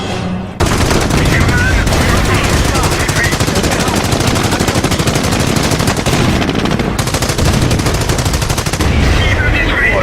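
Dense, continuous machine gun fire from the video game Company of Heroes rattles loudly throughout, with rapid overlapping bursts and only a brief gap near the start.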